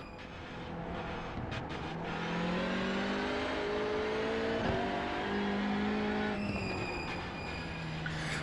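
A Hyundai Elantra TCR race car in iRacing, a video game, drives at speed with a steady, loud engine drone and rising and falling revs through gear changes, without talk.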